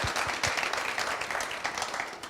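A studio audience at a televised business competition applauds, with brisk, dense clapping that holds steady and close, then tapers slightly near the end.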